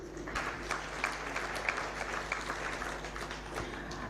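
Audience at a social justice dialogue on ending child labour claps hands in welcome, a soft, scattered patter of applause from a moderately sized crowd heard at a distance, steady for a few seconds.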